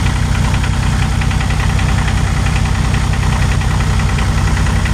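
Kioti CK2620 compact tractor diesel engine running just after a cold start on a 13-degree morning, a steady, close, loud chugging idle with a rapid knocking clatter throughout, no voices.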